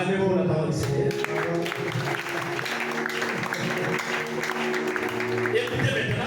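A church congregation applauding during a Friday teaching service, steady sustained clapping filling the room for several seconds while a voice continues over it.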